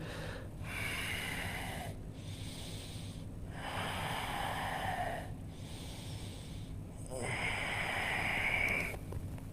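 Slow, deep breaths during a vinyasa yoga class, long airy inhales and exhales alternating with brief pauses, close and fairly soft.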